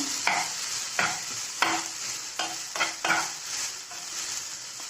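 Grated vegetables for an egg dish are stirred in a pan over low heat, giving about six sharp scraping strokes over a steady soft sizzle with no talking.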